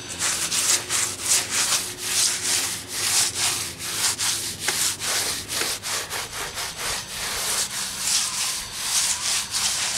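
Wet concrete is smoothed over a patch repair, producing a rhythmic back-and-forth rasping scrape at close range that keeps going without a break, with no talking.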